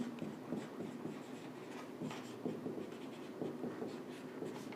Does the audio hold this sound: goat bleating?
no